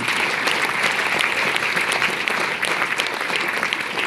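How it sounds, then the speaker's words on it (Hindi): Sustained applause from an audience at a DXN gathering in Ballia, Bihar, a dense steady clapping that fills the whole stretch at even loudness, with no voices rising above it. "एक बार तीनों भूमि के लिए जबरदस्त ताली"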